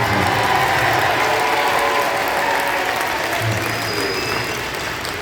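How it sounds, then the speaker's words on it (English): An audience applauds drummer Henry Lewis at a band concert performed in the round, with a dense rattling wash of clapping that stays strong and fades slightly toward the end. "Let's give him a big round of applause."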